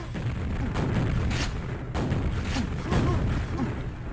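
Rocket explosions go off in a Quake multiplayer match, with repeated dull booms at a steady pace among the game noise, and a commentator talks in the background.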